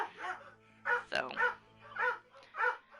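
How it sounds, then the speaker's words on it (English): Dogs bark in short, separate bursts, several sharp barks spaced through a few seconds and heard fairly close, with a brief spoken word between them. "Dogs like to bark."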